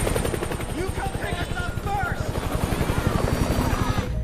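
A film helicopter flies off with a steady, pulsing rotor chop that stays loud over 4 seconds, while other sounds cut in over it.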